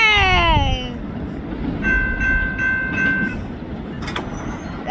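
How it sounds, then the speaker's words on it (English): A BNSF intermodal freight train passes Hinsdale station with a loud, continuous rolling roar. A descending horn-like whine sounds at the start, and a steady tonal hum is heard midway. "This was a nice train, and that train with the DPUs gave me a nice horn show."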